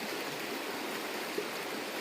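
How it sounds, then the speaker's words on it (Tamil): A stream in full spate after heavy flow, water rushing like a flood, producing a steady, dense broadband roar that stays even from start to finish with no voices over it. "இங்கே குண்டாரில் வந்து ஃபுல்லாக தண்ணி வெள்ளம் மாதிரி தான் வருது"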